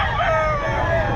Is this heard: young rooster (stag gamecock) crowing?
yes